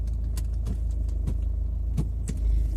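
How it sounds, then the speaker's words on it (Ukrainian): A car engine, just started, idling with a steady low rumble, with a few light clicks and rattles from inside the car over the top and a slight swell in engine noise near the end. "завела машину."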